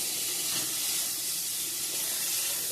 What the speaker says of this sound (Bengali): বেগুন ভাজাটা এদিকে বসিয়ে দিয়ে দিয়েছি।